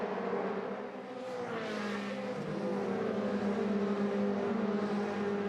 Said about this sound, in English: Sims to the inside into the Mercedes arena at the 2nd gear, left-hander.